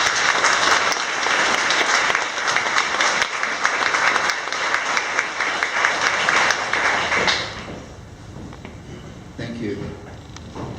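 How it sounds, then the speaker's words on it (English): Loud, sustained applause from a large audience at a campaign launch welcoming a speaker fills most of the clip, then tapers off and fades into scattered claps and murmurs. "Will you please make him very welcome, Dr. Rodney Syme."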